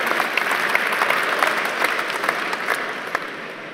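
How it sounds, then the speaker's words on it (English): An audience at a livestreamed pitch event in the Netherlands claps steadily, a dense, loud, continuous applause that fades slightly toward the end. "Let's have a round of applause for that."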